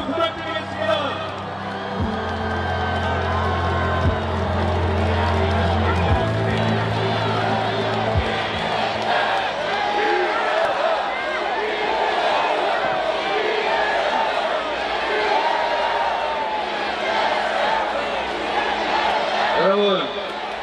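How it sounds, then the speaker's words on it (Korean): A crowd at a political rally for the Democratic Party leader cheers and claps as he is welcomed onstage, a loud sustained roar of voices and applause after some low thuds at the start. "뜨거운 함성과 박수 부탁드리겠습니다."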